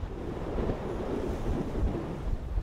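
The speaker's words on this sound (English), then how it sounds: "out on the open sea." Waves washing and wind buffeting on the open sea aboard a group training sail, a constant rough surge with gusts blowing across the microphone and no voices.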